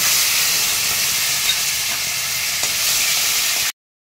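A paste of ginger, coriander, cumin and green chili hits hot oil in a Bengali home kitchen, bursting into a loud bright sizzle that hisses steadily for several seconds before cutting off abruptly.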